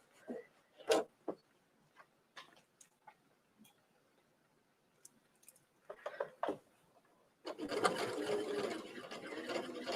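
A sewing machine stitches slippery fabric: scattered light ticks and clicks of handling, then a sustained close mechanical whir as the machine runs for the last few seconds.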